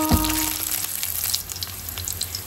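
Oil sizzles steadily in a pan as ingredients are stir-fried over low heat with soybean paste for a clam dish, a close, continuous frying hiss with faint stirring scrapes.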